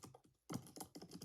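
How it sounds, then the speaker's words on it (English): Quick bursts of clicky keystrokes on a computer keyboard, close and quiet, with a brief pause before a faster run of taps. "I'm not good at typing though, I can tell you that much."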